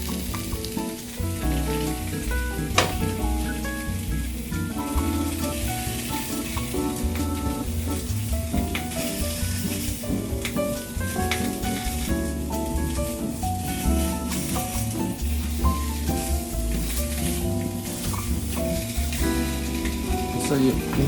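Hot dog searing in a hot pan gives a loud, steady sizzle and crackle that runs throughout with occasional sharper pops, close up and constant.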